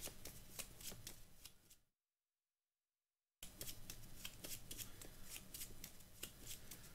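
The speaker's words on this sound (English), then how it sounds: "So we'll shuffle these up as well." Magic: The Gathering cards shuffled by hand, with crisp rapid riffling close up, broken by a short silent gap before the riffling resumes, with no talking.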